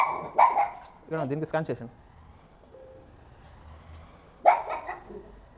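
A large dog behind a gate barking loudly and close, two bursts of several sharp barks separated by a pause, with someone talking nearby.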